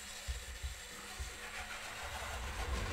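DC-powered model railroad engines running on track, a faint, low mechanical rumble with soft rhythmic clicks of wheels over rail joints, steady and close.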